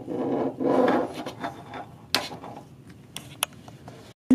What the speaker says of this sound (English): Using a straight pick or a small screwdriver,